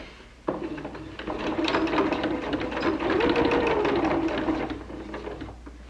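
A sewing machine runs in a steady, rapid mechanical whir while stitching around a layer cake fabric drawstring bag fitted over the free arm, loud and close for several seconds before stopping.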